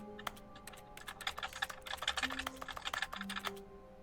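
Rapid bursts of computer keyboard keys clicking and clattering during a Stanley Parable Ultra Deluxe play session, one key tapped repeatedly in quick irregular runs, close and fairly loud with no talk over it.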